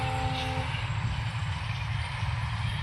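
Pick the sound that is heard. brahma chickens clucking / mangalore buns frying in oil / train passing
train passing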